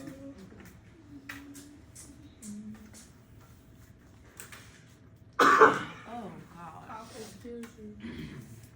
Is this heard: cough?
yes